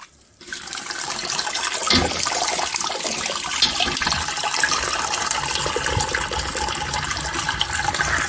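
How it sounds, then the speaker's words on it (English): Wort draining from a grain bag during a homebrew mash, a continuous rushing, splashing pour of liquid that starts abruptly and carries on steadily, close and fairly loud. "There we go, straining the worts out the grains."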